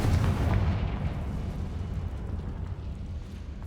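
A Confringo spell explosion in the video game Hogwarts Legacy: a heavy booming blast up front with a deep rumble that slowly decays into a lingering low roar.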